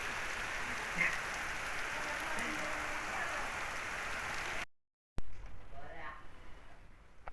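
Steady rain pouring down in Odisha with a dense hiss, then a brief cut before a voice speaks over quieter background noise.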